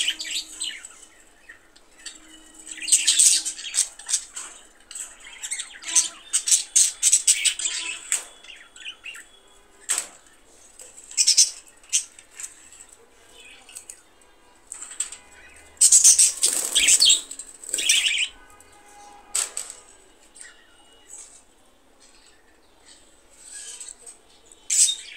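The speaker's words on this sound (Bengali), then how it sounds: "এটা হচ্ছে পাখির বাচ্চা" Baby birds in cages chirp in rapid, bright, scattered bursts that come and go, some clustered and loud and close, with quiet gaps between.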